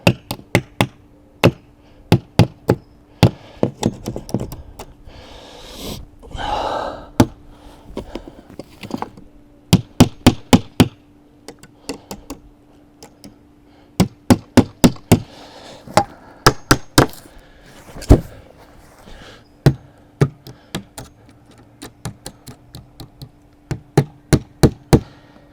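Nails are hammered into the corner of a wooden chicken enclosure: sharp, close hammer blows in quick bursts of several strikes, separated by short pauses, with brief scraping and handling noises between.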